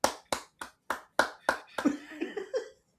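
Hands clap six times in an even rhythm, close and sharp, reenacting applause in a theater, before a voice comes in and talks.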